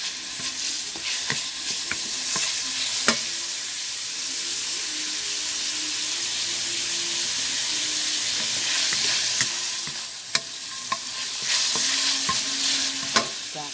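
Bean sprouts and pork stir-fried in a pan, a loud continuous sizzle with scraping and clattering stirring strokes near at hand, interspersed with a few sharp knocks.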